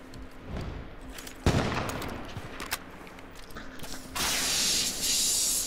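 Gunfire in the battle royale game H1Z1 crackles in scattered bursts, with one sharp loud shot standing out, and a broad hissing rush swells at the end.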